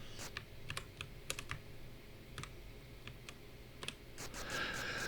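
Computer keyboard keys are pressed in scattered, quiet clicks, some in quick pairs and others spaced apart, with a faint background hiss and no talking.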